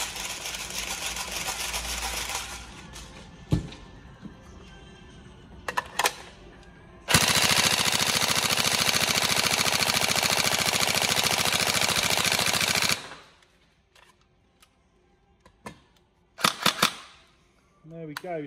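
A Tokyo Marui 416 Delta electric airsoft rifle running on a LiPo battery fires full auto, with loud sustained bursts, one lasting several seconds, plus shorter bursts and single shots, close by, between quieter pauses.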